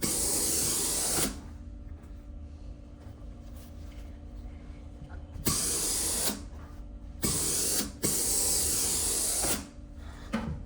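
A steam iron presses down the seam of a sewn vest front. Loud bursts of steam hiss come in several blasts, separated by quieter stretches of low hum.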